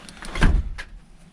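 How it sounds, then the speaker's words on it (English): A door near a Jeep being wired swings shut, producing one muffled, thudding close with a short rattle and a faint knock after it. "Oh, close the door."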